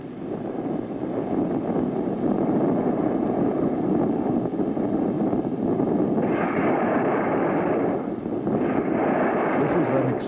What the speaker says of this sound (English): Our nation successfully explodes its second nuclear bomb in the sky